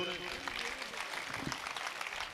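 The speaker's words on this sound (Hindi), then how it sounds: "एक बार उस परमात्मा के लिए ताली वाली बजा दो रे" Audience clapping at a Hindi comic poetry gathering (kavi sammelan), a steady dense patter of many hands continuing throughout with voices mixed in.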